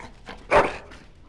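A single sharp dog bark rings out close and loud in a Dragon Age Origins scene, preceded by a couple of faint softer huffs, with no voices over it.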